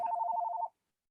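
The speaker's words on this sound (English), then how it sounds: "Let me turn off my phone." A mobile phone rings during a podcast recording: a short, bright electronic trill of rapid repeated pulses lasting under a second, then cut off abruptly, fairly quiet and alone.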